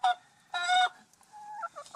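Hens cluck and squawk close by, a loud harsh call followed by a string of shorter, softer clucks.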